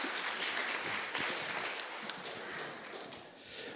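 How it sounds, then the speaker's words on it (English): Audience applause at a Southern Africa Development Community–India LPG summit, honoring the moderator: a steady wash of clapping from a seated conference crowd, fairly even in level throughout, with a slight swell near the end. "Why don't we give Tamsin a round of applause for being a great moderator?"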